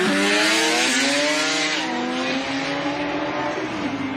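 An Audi time attack race car accelerating hard on track, loud and near, its engine note climbing through rising gear-change sweeps with tire noise beneath, at a motorsport time attack event.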